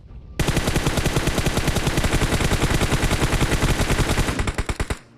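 Automatic gunfire from a PUBG-style battle royale game bursts in suddenly as one long, loud, rapid stream of shots, then cuts off abruptly after about four and a half seconds.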